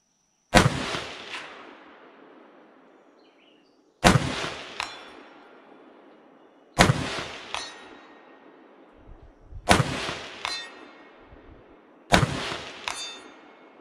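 Five loud, sharp Swedish AG-42B Ljungman semi-automatic rifle shots are fired at a 200-yard target, spaced about three seconds apart, each followed by a ringing echo and a fainter metallic clink or impact.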